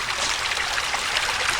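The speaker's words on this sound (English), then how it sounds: "We do have a little bit of trickling water here." A tiny woodland waterfall on a trail at the Pocono Environmental Education Center trickles in a steady, soft, continuous babble of water, with no other sounds.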